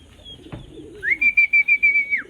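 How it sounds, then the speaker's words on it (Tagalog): Racing pigeons arrive at a loft in Muntinlupa, Manila during a race; a single sustained whistling tone comes in over a faint low coo, with no talking. "First bird natin mga kalapatids, si Houston 588 yan"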